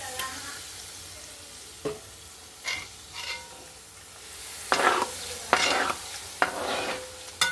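Cashew nuts fry in a pan with a low, steady sizzle broken by a series of scraping stirs that grow busier and louder toward the end.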